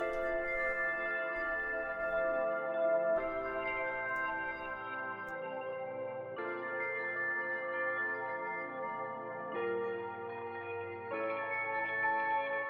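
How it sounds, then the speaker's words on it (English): A sustained, shimmering Omnisphere bell synth pad with bell-like tones plays drill-style chords that change every few seconds, steady and full, with no voices. "I got this bell pad Martini out of this Omnisphere patch"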